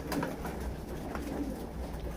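Giribaz racing pigeons at a backyard pigeon farm coo in a low, continuous murmur of overlapping calls at moderate level, steady throughout with no speech.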